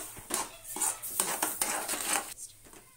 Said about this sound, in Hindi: अब इसमें हमने शुगर मिलाई और अच्छी तरह से जल्दी जल्दी मिक्स करेंगे